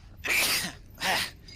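Two quick sneezes, close and fairly loud, with a brief pause between them and no talking.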